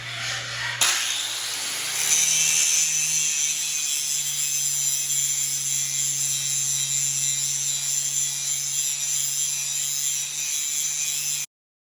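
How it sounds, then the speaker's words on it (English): An angle grinder spins up with a clunk and then grinds steadily against a steel precision square, a loud close whine with a harsh metallic rasp that holds unbroken for about ten seconds before it stops abruptly. "just keep grinding away until you get there"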